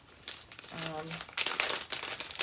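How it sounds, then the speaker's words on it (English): Plastic packaging on a thread club box crinkling as it is handled and opened, a few close, sharp rustling bursts with a brief voice in between. "Sorry for the crinkles."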